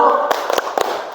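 A classroom of pupils doing a rhythmic group clap, several sharp clustered bursts of hand claps in a patterned beat, loud and close, with a teacher's voice talking over the start.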